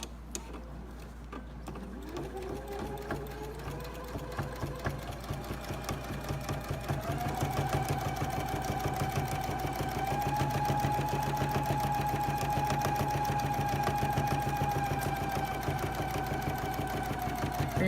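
A domestic sewing machine stitches steadily while circles and straight lines are quilted with a circles-and-straights tool, its motor hum rising and settling into a continuous whirring run with the needle's rapid, even mechanical clatter.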